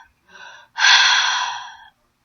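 A man imitates Darth Vader's breathing with his voice: a short inhale followed by a longer, louder hissing exhale, close to the microphone with nothing else around it.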